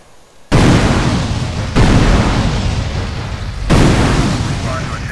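Grenade blasts in GTA San Andreas, three loud, close booms in succession, each with a long rumbling decay that blends into the next.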